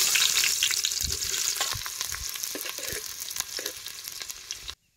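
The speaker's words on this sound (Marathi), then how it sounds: "आता हे बारीक चिरलेला कांदा तेलात टाकायचा।" Finely chopped onion drops into hot oil over a wood-fired village stove in a Kolhapuri kitchen and sizzles loudly and steadily, with a few stirring scrapes, before the sound cuts off abruptly.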